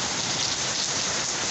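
Heavy rain pouring down in Florida outside a hotel in winter, a dense, unbroken roar of downpour, close and steady with no voices.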